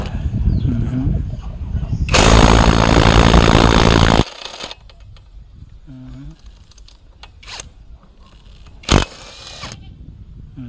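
Tanzu 320N cordless impact wrench loosening a 22 mm rear wheel nut, one loud buzzing hammering burst of about two seconds up close, followed by quieter handling clatter and a sharp metallic knock.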